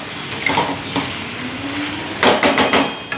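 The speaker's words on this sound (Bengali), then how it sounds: "এই যে কষা চলছে।" Spice paste sautéed for a fish curry in a pan, giving a steady frying hiss with scraping stirs and a burst of clattering metal strokes near the end, close by with no talk.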